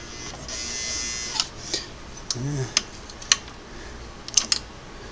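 Singer Model 404 sewing machine run briefly for a stitch test after restoration, giving soft mechanical whirring and several sharp clicks and ticks spaced irregularly over a quiet background, close up, with no talking.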